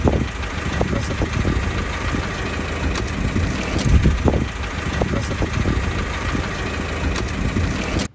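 A car engine with a severe knocking fault runs continuously at close range, clutch disengaged, with a rough, rattling knock repeating throughout, loud and harsh with no voices.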